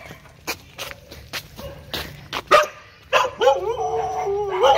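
Dogs bark in a series of sharp, spaced yips and barks, then break into a loud, drawn-out wavering howl, close and clear with no talking.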